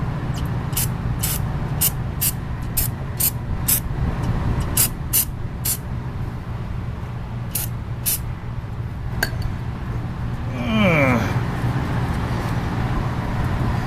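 Aerosol spray can applying truck bed liner in a series of short hissing bursts, followed by a longer spray, with a rumble of nearby traffic underneath.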